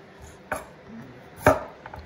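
A knife slicing a peeled, thick-skinned vegetable into thin julienne strips on a cutting board, two distinct close chops about a second apart with quiet pauses between.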